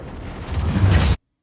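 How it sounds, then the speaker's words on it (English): Ship exploding after a torpedo hit in the space game Star Citizen, a loud rumbling blast that swells for about a second and then cuts off abruptly. "Oh! Destroyed! Look at that explosion."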